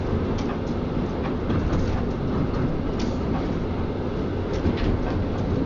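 A train sound effect for a train-driving game runs with a continuous low rumble and occasional rhythmic clacks from the rails, steady and moderately loud, pitched slightly low, with no voices.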